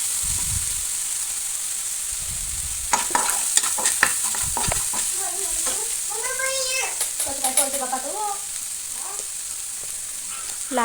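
Mutton is stirred in oil in a pan. A steady sizzle runs throughout, with bursts of scraping and clinking strokes. A voice talks over the cooking in the second half.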